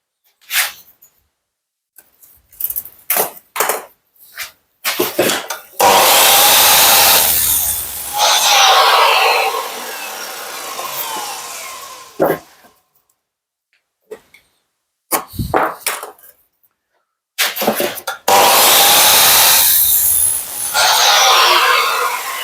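A power tool cuts a wooden slat in two long, loud buzzing passes, each lasting several seconds, separated by scattered knocks, clicks and handling sounds with quiet gaps.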